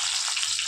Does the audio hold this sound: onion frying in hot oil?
yes